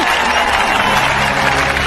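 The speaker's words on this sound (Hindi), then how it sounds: "ताली बजाओ, ताली।" Loud, dense audience clapping fills the whole moment, a continuous wash of applause from a crowd with no break.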